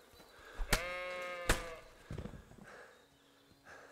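Sheep bleating in the game Kingdom Come: Deliverance II, one clear nearby bleat with a sharp click at its start, followed by quieter rustling and shuffling sounds, no talking.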